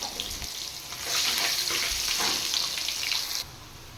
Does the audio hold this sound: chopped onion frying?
yes